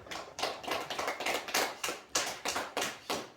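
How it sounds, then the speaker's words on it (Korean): Audience applause at a Buddhist lecture hall, a small crowd clapping in quick uneven bursts, close and fairly loud, with no talk over it. "박수 한번 쳐주십시오."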